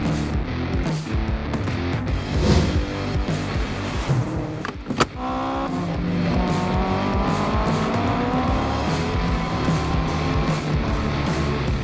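A Subaru Impreza GC8 Type R and a Mitsubishi Evo 6.5 race nearby, engines roaring and revving through gear changes, with a brief sharp tire squeal midway and a sustained high rev afterward. No one speaks.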